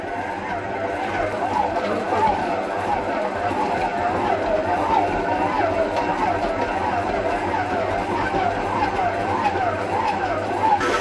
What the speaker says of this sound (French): Là, on est à peu près à 5 minutes de pétrissage.